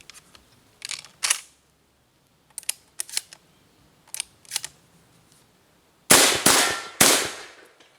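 Gunshots from an Alpha Arms SPX firearm during range shooting: a few sharp reports early on, then a loud cluster of closely spaced shots near the end, each with a short decaying tail.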